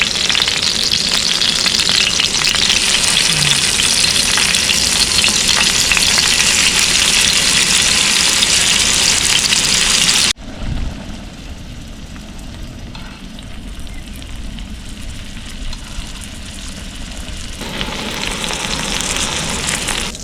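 Paneer tikka fries on a tawa over a low gas flame, a steady dense sizzle that drops suddenly halfway as the pieces are moved, then keeps crackling more softly before building again.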